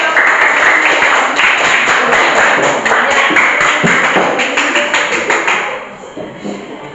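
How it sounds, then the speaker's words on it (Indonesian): A classroom group claps hands together in a dense, loud burst of clapping that runs for several seconds before tapering off, with some voices mixed in. "tepuk tangan dulu"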